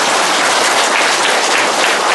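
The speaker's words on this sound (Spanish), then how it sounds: "Un fuerte aplauso." Dense, steady applause from a crowd at a multisectoral government meeting, continuous clapping throughout with no pauses.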